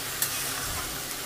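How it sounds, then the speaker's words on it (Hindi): Onion paste frying in oil with cumin and bay leaf for a katla fish curry, a steady close sizzle with a couple of brief stirring scrapes, no talking. "तो अभी इसको अच्छे से फ्राई कर रही हूँ प्याज को।"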